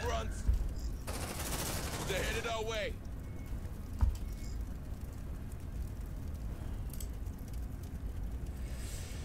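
Gunfire in the video game Aliens: Dark Descent, with rapid bursts and sharp cracks over steady, loud background battle noise. Brief voiced calls and synthetic chirps cut in near the start.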